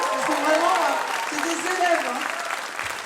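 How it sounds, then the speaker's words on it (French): An audience applauds students after a school ensemble concert, a dense steady clapping with a voice speaking over it. "On peut les applaudir bien fort encore"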